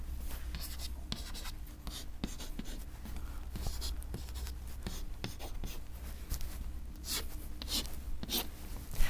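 Pen scratching on paper while a multiplication is written out by hand, a close, quiet sequence of short strokes and taps in irregular rhythm over a soft background hum.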